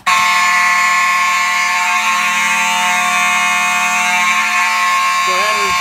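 Mechanical fire alarm horns set off by a Simplex 425120 panel blare continuously and very loud at close range, a steady buzzing drone that holds for several seconds.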